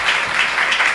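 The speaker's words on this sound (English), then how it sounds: "So please give him a warm applause once again." Seminar audience clapping together in a steady, dense round of applause that fills the whole short moment, moderately loud and without talk.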